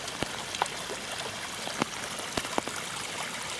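Water in a stream flows with a steady close rushing babble, broken by a few brief splashes and drips.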